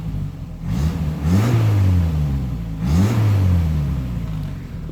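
A Renault 10 car running a swapped-in Renault 12 engine, being revved: two rising-and-falling revs over a steady idle, close and fairly loud, with no talking.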